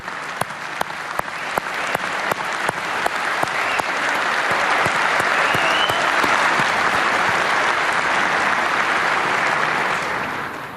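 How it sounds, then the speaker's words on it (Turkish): An audience applauds, opening with a few sharp, separate claps that swell into a dense, steady ovation holding loudly for several seconds before easing off at the end. "Onun için biz de sizlere alkışlıyoruz."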